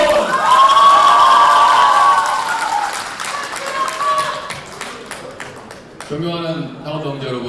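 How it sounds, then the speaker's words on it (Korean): Crowd at a party regional delegates' convention with joint campaign speeches, clapping and cheering loudly with shouts rising over it, the noise gradually settling before a speaker's voice returns. "동의하시는 박수를 보내십시오"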